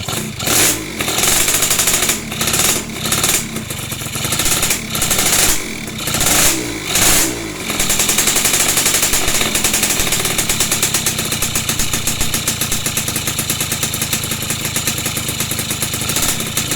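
A Yamaha F1ZR motorcycle's engine is kicked over in several sharp bursts, then catches and runs steadily, revving loudly and close up after the ignition wiring is rerouted with a CDI unit.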